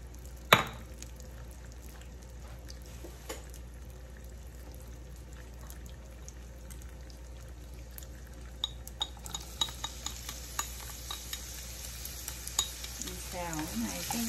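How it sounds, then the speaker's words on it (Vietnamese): Green onion roots stir-fry in a pan, a soft sizzle running throughout with scattered light scrapes and taps of a utensil against the pan, faint and close, with no voices. "Mình xào cái này cái gốc cho nó thơm"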